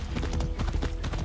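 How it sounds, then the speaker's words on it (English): A horse gallops in the video game Far Cry 6, giving a quick, steady run of loud, close hoofbeats over about a second. "Super speed horse."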